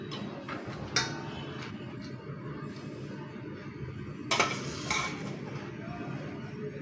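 Boiled rice spread in loose layers into a pot for Afghan Kabuli pulao, giving soft scraping and a couple of sharp metal clinks against the pot over a steady low rumble.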